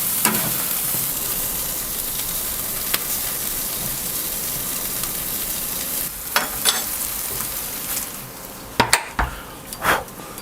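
Burgers sizzle and fry on a Pit Boss K24 ceramic charcoal grill, a steady close crackling hiss broken by a few louder pops and scrapes toward the end, with no talking.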